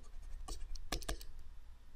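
Numbers are written by hand during a math calculation, a few short pen scratches and taps close by, quiet and brief with near silence between strokes.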